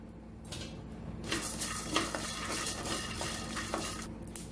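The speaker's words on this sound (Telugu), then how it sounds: "ఈ పల్లీలని మీడియం ఫ్లేమ్లో ఇలా కలుపుకుంటూ వేయించుకోవాలి." Peanuts and coriander seeds are dry-roasted in a pan over medium flame and stirred with a utensil, producing soft repeated scraping and light rattling with gentle clinks at close range.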